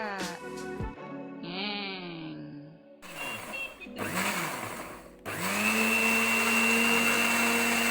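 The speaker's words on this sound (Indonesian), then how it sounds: "Kemudian kita mulai blender, hati-hati kaget." A kitchen blender starts up on washed tomatoes with about 100 ml of water, rising into a loud, steady motor whine after a few seconds of varied tonal squeaks and bleating sounds.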